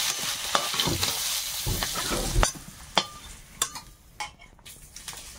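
Potato pieces fry in hot oil with salt and turmeric, giving a close, continuous sizzle broken by repeated scraping stirs and a few sharp clinks of the utensil against the pan.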